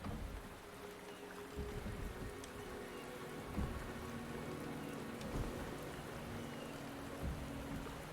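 Steady rain falls in a video game scene, a dense even hiss of drops with scattered heavier patters and low rumbling underneath, continuous and fairly soft, with no voices.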